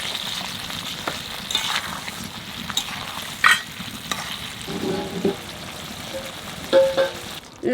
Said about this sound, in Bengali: নারকেলের দুধ দিয়ে একটু নাড়াচাড়া দিছি